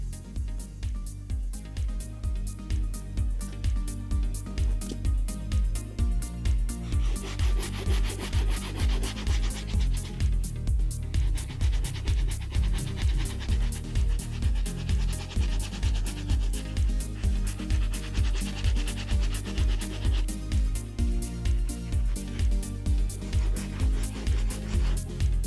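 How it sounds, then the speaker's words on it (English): A steel or brass bristle brush scrubs the badly soiled soles of an original 1985 Air Jordan 1 sneaker, giving a steady, close, rhythmic scratchy rubbing that repeats without pause throughout. "They are really bad, so we're gonna go to a steel bristle brush, there might be brass,"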